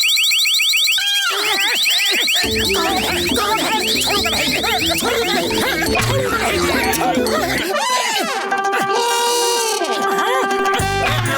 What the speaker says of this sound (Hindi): अब कोई भी इस तिजोरी को छुएगा तो अलार्म बज जाएगा